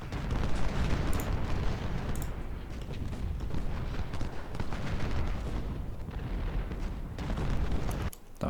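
Dense, continuous battle din from the video game Ultimate General: Civil War: massed gunfire and rumbling blasts blur into a steady roar for about eight seconds before dropping away abruptly.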